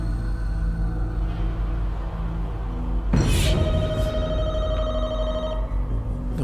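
A telephone rings inside The Walking Dead: Michonne video game, a sustained electronic ring that cuts in halfway through over a steady ambient game soundtrack, fairly loud and close, with no talking.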